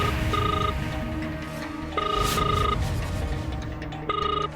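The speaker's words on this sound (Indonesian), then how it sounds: "Lihat berdering kan?" Telephone ringing in repeated bursts of a bright electronic ring, three rings spaced about two seconds apart over a steady background hum, with no talking.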